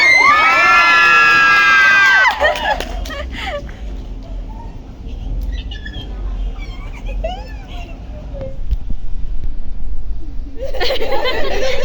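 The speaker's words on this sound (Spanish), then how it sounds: "Un aplauso, por favor." Audience at a live talk event in Lima bursts into loud cheering, shouting and applause, sustained and crowded, with a host's amplified voice speaking at the start and chatter among the crowd.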